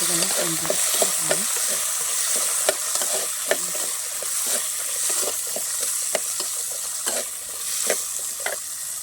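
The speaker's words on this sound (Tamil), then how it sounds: "வெங்காயம் போட்டுக்கலாங்க" Onions fry loudly in a pan over a bright, constant sizzle, with repeated scraping strokes of a stirring spoon spaced through the whole stretch.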